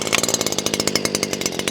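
A brand-new gas string trimmer's small two-stroke engine runs loud and close after being started with the choke, its rapid, buzzing, pulsing drone holding steady throughout with no talking.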